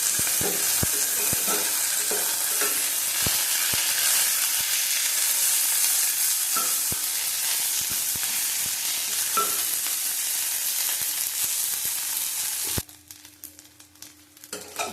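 Neem leaves frying in a pan, a loud, continuous dense sizzle with scattered crackles and scrapes that cuts off sharply near the end, leaving a quiet hum.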